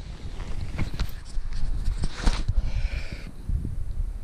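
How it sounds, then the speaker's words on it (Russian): Gusty wind blowing across a marsh, rough buffeting bursts that rise and fall against the microphone over several seconds, with no voices. "Но ветер пока никак не успокоится."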